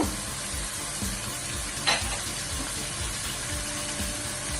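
Chicken frying in a pan, a dense, close, continuous sizzle with a short bright crackle partway through and faint rhythmic knocking beneath, no voices.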